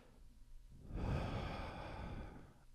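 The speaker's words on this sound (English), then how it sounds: "So I take my deep breath." A deep breath drawn in before speaking, a single slow breathy inhale swelling midway and fading out, close and fairly quiet with no talking.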